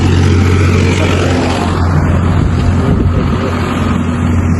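Motor vehicle rolling along a village road in Rajasthan, its loud, close engine drone and road rumble holding steady throughout the clip.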